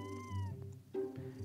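A kitten meows in two short, close, high-pitched calls with a small pause between them, heard alone and fairly faint.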